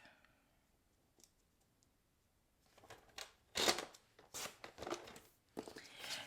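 A paper trimmer slices cardstock down to size for a handmade floating Christmas fun fold card, giving a few sharp cutting and clicking bursts after a quiet start.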